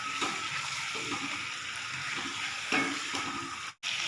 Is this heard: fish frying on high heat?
yes